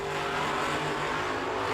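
A Camaro and a Chevy Nova drag racing at the Yellow Bullet Nationals produce a loud, steady engine roar with a sustained low drone that holds without a break.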